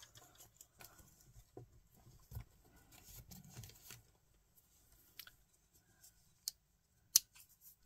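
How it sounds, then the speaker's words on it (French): Quiet snips of detail scissors cutting out paper for a collage, a few scattered cuts with soft rustling between them, then two sharper clips near the end. "j'aimerais bien mes ciseaux pour détourer, ce serait pas mal"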